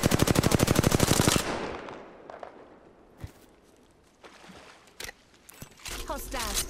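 Loud rapid automatic gunfire from a weapon in the Apex Legends battle royale game, a fast rhythmic burst for over a second, then scattered sharp shots and impacts with a voice speaking over the quieter stretch.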